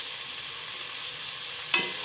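Chopped onion and curry leaves frying in oil for a Kumbakonam-style kadappa stew, a faint steady sizzle with a brief sharper crackle near the end, close by, no talking.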